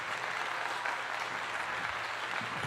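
Steady applause from an audience fills the whole stretch, a dense even clatter of many hands clapping with no pauses.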